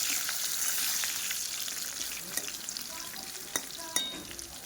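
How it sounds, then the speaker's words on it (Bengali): Potatoes frying in oil in a pan ahead of a meat curry, a continuous soft sizzle with a few sharp scrapes and clinks of stirring toward the end, close and quiet, no speech. "মাংসের জন্য আলুগুলো আগে ভেজে নিচ্ছি।"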